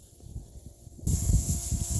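Sprinkler head blowing out air while sprinklers are winterized, a steady close hiss that gets suddenly louder and brighter partway through, then keeps rushing.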